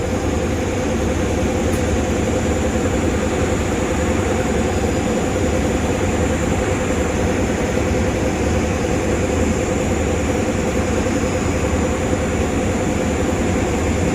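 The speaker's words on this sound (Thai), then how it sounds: "ขบวนรถเร็วขบวนที่172 เพื่อออกจากสถานีราชบุรีไปแล้ว" Rapid train no. 172 pulling out of Ratchaburi station in Thailand, a steady, loud, continuous rumble with a low droning hum holding evenly throughout, no voices.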